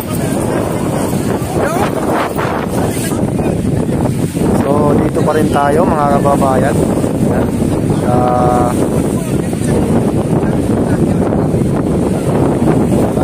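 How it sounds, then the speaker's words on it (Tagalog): Strong wind roars steadily across an open microphone along Manila Bay, a constant loud rush with someone talking over it and other voices nearby. "napakalakas ng hangin"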